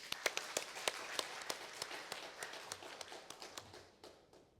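A church congregation claps faintly during an afternoon worship service. Sharp individual hand claps start sparse, thicken into scattered applause, then thin out again.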